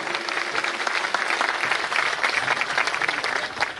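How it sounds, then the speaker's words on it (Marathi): A large audience at a Marathi religious gathering honouring a maharaj's sixty-first birthday claps loudly and continuously, dense even applause without pause. "आपण एकदा जोरदार टाळ्या वाजवा सर्वांनी"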